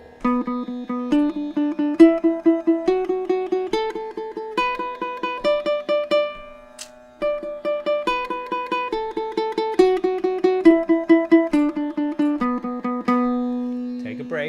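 A ukulele picks quick, even sixteenth notes, four per beat, in a steady rapid pattern, bright and close, with a short pause midway.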